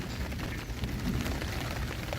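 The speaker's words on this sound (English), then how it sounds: "It's raining." Steady rain patters across surfaces outdoors during a storm, a dense continuous hiss with scattered drops, no voices.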